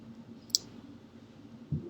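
A single computer mouse click, crisp and close, followed by a faint soft bump a moment later in an otherwise quiet room.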